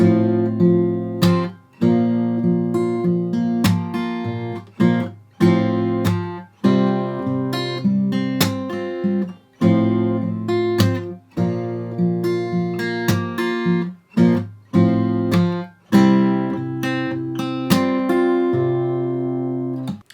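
Acoustic guitar strumming the chorus slowly, with sharp percussive slap-flick accents cutting in between ringing chords at a steady, deliberate pace, close and alone without talk.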